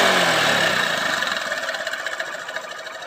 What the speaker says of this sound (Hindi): बाइक बिल्कुल हम सेल्फ लगाते हैं और बाइक बिल्कुल स्टार्ट हो जाती है